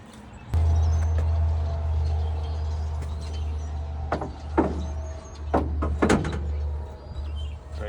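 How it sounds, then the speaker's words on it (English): A rear bumper is worked off a 1999–2006 Chevy truck, with a series of clunks, knocks and scraping bursts close by over a steady low hum. "All I'm gonna do is just pull out the bumper, slide this one on."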